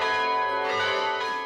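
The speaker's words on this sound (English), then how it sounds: "Only a privileged few have so far heard the Anzac bell ring" The Anzac bell, a large tuned metal bell in a bell tower, rings with a loud, sustained, shimmering tone and dense overtones that hold steady throughout, with no other sounds.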